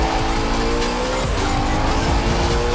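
A Koenigsegg Agera RS racing at very high speed in the video game Forza Horizon, a loud sustained engine roar with droning harmonics and tire squeal, dense and continuous throughout.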